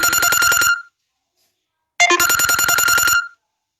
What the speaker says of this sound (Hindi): बीच बीच में व्यवधान आ रहा है, मरीजों का फोन आ रहा है।